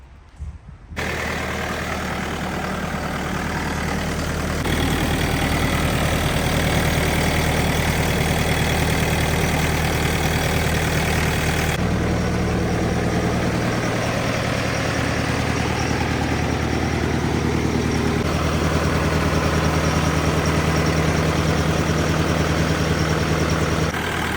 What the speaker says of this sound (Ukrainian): Демонструю роботу двигуна та світлових приладів.